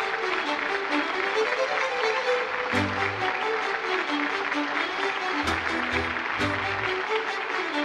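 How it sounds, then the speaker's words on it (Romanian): A studio audience on a Romanian television show applauds a folk singer with steady, continuous clapping as instrumental folk music plays underneath. "Doamnelor și domnilor, aplauze pentru minunata artistă"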